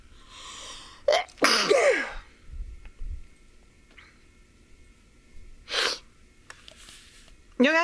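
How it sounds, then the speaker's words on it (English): A person lets out a single loud, close sneeze with a sharp intake of breath before it, followed by quieter breathing and a second brief burst, in a quiet room during a crochet blanket session. "Oh, I gotta sneeze."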